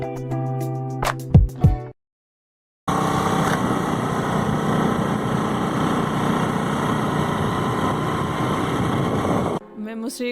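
A motorbike engine drones steadily and close while riding on the road toward Srikurmam, a continuous loud hum with wind, preceded by brief clatter and a short silence.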